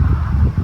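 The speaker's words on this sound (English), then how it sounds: "a lot of the wind's coming this way" Wind gusting against a pitched Wenzel Klondike 8-person tent outdoors, a loud, close low rumble of buffeting with rustling flaps across a brief moment.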